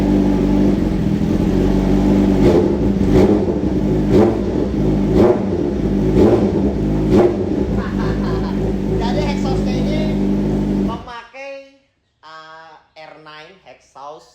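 A Kawasaki Ninja H2 police motorcycle with a full titanium R9 exhaust revs hard and close for about eleven seconds, with repeated throttle blips over a loud engine drone, before it cuts out and someone speaks.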